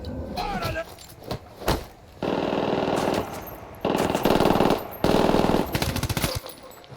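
Rapid bursts of automatic gunfire in the video game Ghost Recon Wildlands, loud and close, with several sustained volleys separated by short pauses and a few single shots at the start.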